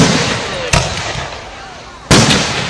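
Two loud, sharp firework bangs land about a second and a half apart at the Nowra Show, over continuous crackling and rumbling from the wider display.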